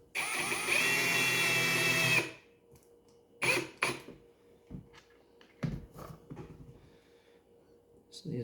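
A power drill on slow setting drives a screw into a pre-drilled wooden cutting board, one sustained whirring run of about two seconds followed by short, quieter bursts and clicks.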